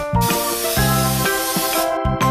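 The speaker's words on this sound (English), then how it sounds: "Let's get some vegetable oil and spray our waffle maker." A few short bursts of vegetable oil spray onto a waffle maker, each sharp and close, separated by brief pauses with a steady mechanical hum underneath.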